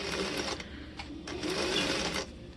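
A sewing machine chain stitching patchwork pieces runs in a loud, steady, close mechanical whir with a fast needle rhythm and a couple of brief pauses in speed.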